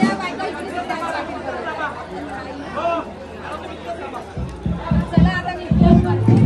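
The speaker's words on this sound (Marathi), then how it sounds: "प्रचंड गर्दी आहे" Dense crowd chatter at a Narali Purnima festival gathering, many overlapping voices forming a loud continuous babble, with nearby people talking over it and low thumping sounds toward the end.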